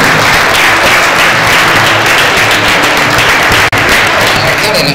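Sustained, loud applause fills a graduation ceremony hall for postgraduate degrees, with dense clapping from a large audience throughout and a voice briefly audible amid the crowd.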